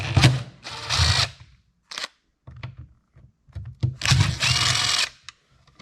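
A power tool whirs in short, sharp bursts while the recoil starter is removed from a Poulan Super 25 DA chainsaw, two longer runs separated by brief clicks and quiet gaps, close and fairly loud with no talking.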